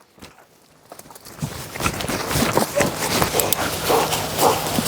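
A working service dog moves with its handler during demining-style training in a rural area, with quick paw steps and rustling that grow louder and busier, mixed with other movement nearby.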